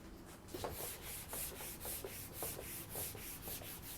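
Pen or chalk strokes drawing a drill bit on a board, a soft scratchy rubbing repeated in a steady rhythm of short swipes, close and fairly quiet, with no voices.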